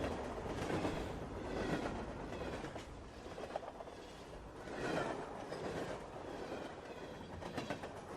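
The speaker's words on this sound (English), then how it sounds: "Freight train." A freight train rumbles past with rhythmic clickety-clack of wheels over rail joints, surging and easing in loudness, heard at a moderate distance without any talk.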